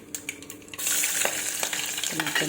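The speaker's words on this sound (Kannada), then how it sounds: "ಎಣ್ಣೆ ಕಿಟ್ಟಿದ್ದೆ ಸಾಸಿವೆ ಜೀರಿಗೆ ಹಾಕಿದ್ದೀನಿ" Mustard seeds and cumin hitting hot oil, a few faint taps and then a sudden loud, dense sizzle that carries on close, with a brief faint voice near the end.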